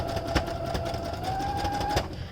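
Sewing machine stitching stretched fabric for a beard sock, a steady mechanical whirr with a sustained hum and faint rhythmic clicks.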